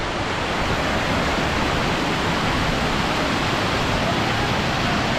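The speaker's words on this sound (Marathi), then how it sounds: "भाजे वॉटरफॉल मित्रांनो." Bhaje waterfall near Malavali, Lonavala, a loud, continuous broadband rush of falling water close by, steady and alone without speech.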